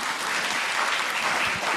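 A large audience at a formal national assembly opening ceremony applauds a keynote speaker, a dense, continuous burst of clapping filling the whole brief moment at an even, fairly loud level.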